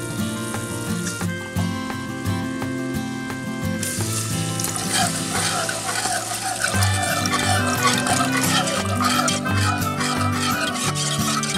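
Milk and a butter-flour roux simmering in a pot, a steady bubbling sizzle that runs throughout, with music playing over it and no speech.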